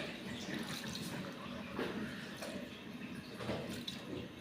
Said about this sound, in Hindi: ये पानी की डाल दी।